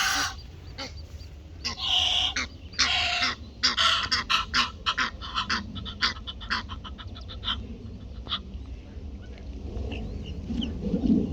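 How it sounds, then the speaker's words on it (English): Egyptian geese honk repeatedly in loud, ragged bursts, several birds calling over one another, then the calls thin out and grow quieter toward the end. "Egyptian geese."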